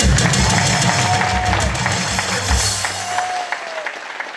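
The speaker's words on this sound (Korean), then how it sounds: "now you must give a round of applause" A large audience at a regional pastors' gathering in Busan applauds steadily, a dense close wash of clapping with faint crowd murmur and a voice briefly audible beneath it.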